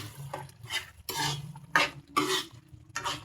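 Bagoong alamang shrimp paste stirred in a pan, a run of scraping, wet strokes in irregular bursts, fairly close and quiet, with a faint sizzle beneath.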